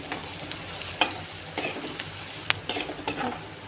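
Onion sautéing in a pan for a dhaba-style masala bhindi, a soft steady sizzle broken by several sharp spoon clinks and stirring scrapes against the pan.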